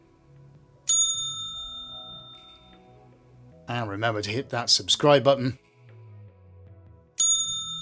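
Notification bell sound effect rings with a bright, sustained ding at the start and again at the end, with someone talking in between.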